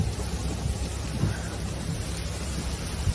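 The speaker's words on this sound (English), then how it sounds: "Hailstorm, lightning storm." Steady hiss of a desert hailstorm in southern New South Wales, rain and hail drumming across the surroundings with low rumbling underneath, a constant wash of noise with no clear thunderclap standing out.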